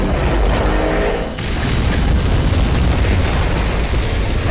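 Rocket explosions in the Skibidi Toilet video game, a loud, sustained rumbling boom with dense roaring noise that barely eases across the stretch.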